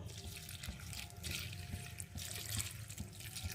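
Water poured into a pot of jackfruit curry being cooked village-style, a steady splashing pour that runs continuously and fairly quietly, with small surges and no talking.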